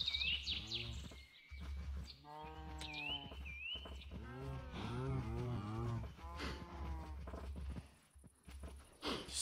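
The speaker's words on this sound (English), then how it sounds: "Cows." Several cows moo in the video game Minecraft, drawn-out low calls one after another across the stretch, fairly close and clear, with faint game chirps and no talk.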